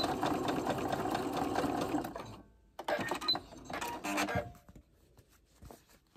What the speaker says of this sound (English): you're just going to stitch the two together